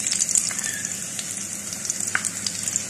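Garlic sizzles and crackles steadily in hot oil in a pan, a close, continuous frying hiss with small pops throughout and no talking.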